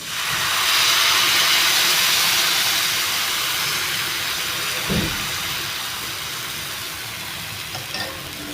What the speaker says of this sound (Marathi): आता मी या चमच्याने घावणं घालते